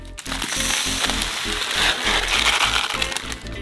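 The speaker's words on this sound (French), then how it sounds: "Nous mettons donc 1 kg de sarrasin dans une casserole." Dry grains pour steadily into a metal pot, a dense rattling, crackling rush, close and fairly loud throughout.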